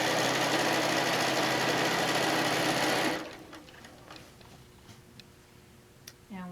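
A sewing machine stitches down the border edge of a quilt, running loud and steady for about three seconds before stopping, followed by quiet handling noises and a few faint ticks.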